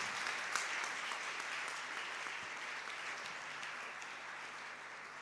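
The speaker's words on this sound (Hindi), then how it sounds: "खड़े होकर एक दफ़ा ताली बजाकर उनका शुक्रिया अदा करें" A church congregation claps in thanks at Sunday Mass, a steady, fairly distant wash of applause that holds evenly and fades slightly toward the end.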